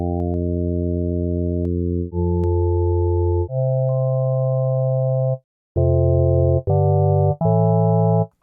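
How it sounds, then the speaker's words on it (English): A VirSyn Addictive Pro synth on iPad, being shaped into an organ sound, plays sustained tones blending two waves, one bass-heavy, shifting pitch in steps with a short gap before choppier repeated notes. "Now we're going to use a mix between wave A and wave B, and I want wave A to be more bass heavy."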